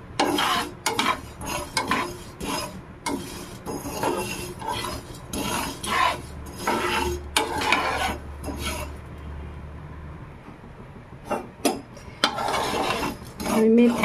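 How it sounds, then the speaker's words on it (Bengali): Fenugreek seeds with black cumin dry-roast on low flame in a pan, giving repeated dry, gritty scraping strokes of a spatula, bunched in bursts with short pauses between. "লো ফ্লেমে খুব ভালো করে ভেজে নেব।"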